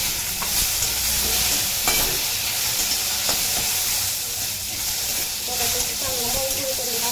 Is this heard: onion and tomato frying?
yes